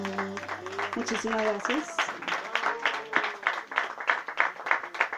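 Applause from a small outdoor audience at a poetry reading, a steady patter of clapping that runs underneath a voice speaking briefly over it and continues alone afterward.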